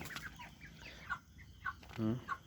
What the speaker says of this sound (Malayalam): വലിയ കോഴികളാണ്, വലിയ കോഴികളാണ്.